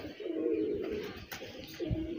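A hand-held female pigeon coos softly up close, a low throaty warble followed by a second shorter coo, with faint handling rustles.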